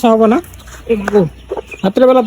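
Layer chicken chicks in a farm shed at night during feeding, with clear near peeps and clucking calls in several short bursts, loud and close, mixed with someone talking.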